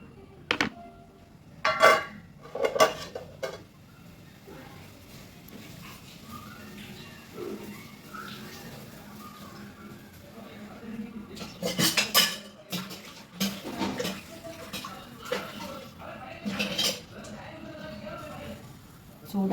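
Scattered metallic clanks and scrapes from an iron pan being handled on a stove before roasting coconut and ingredients for chammanthi podi, in short bursts near the start and again later, with a voice talking in between.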